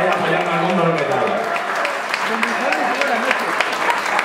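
Applause from the audience at a metal concert, dense clapping and crowd noise throughout, with a voice speaking loudly over it.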